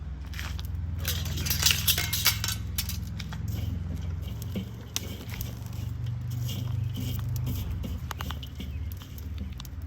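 Hot charcoal is raked and spread inside a 31-year-old Weber 22-inch kettle grill, making dense crunching, scraping and crackling up close over a low steady rumble, with no talking.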